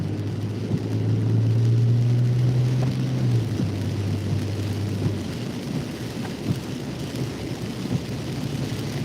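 Steady rain falls during a passing storm in Kentucky, a continuous hiss with a low rumble underneath that could be thunder or a vehicle, and no talking.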